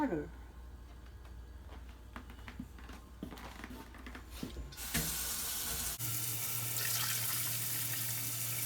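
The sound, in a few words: warm water running from tap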